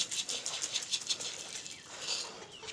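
Pigeons being fed grain flutter and shuffle nearby, with soft wing flaps and scratchy patter repeating over a couple of seconds, no voices.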